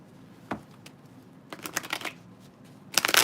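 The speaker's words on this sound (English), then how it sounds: "I have been shuffling so much the cards don't want to be shuffled." Tarot cards are shuffled up close in brisk riffling bursts, with scattered taps and flicks in between. No one speaks.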